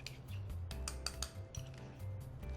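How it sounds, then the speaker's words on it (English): A spoon clinks and scrapes against a bowl while stirring a marinade of fresh thyme, garlic and cracked black pepper. The clinks come close and quick, in an irregular cluster with no talking. "Okay, we're going to stir that together."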